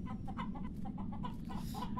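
Chickens in a small coop cluck in a steady, fairly faint chorus of short repeated calls, with no talking.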